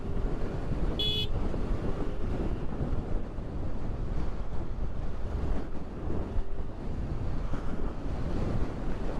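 Strong wind roars steadily against the microphone for the whole stretch, a dense, rushing buffet that at times also sounds like surf, with no talking, recorded at the southern tip of Bangladesh at Shah Porir Dwip.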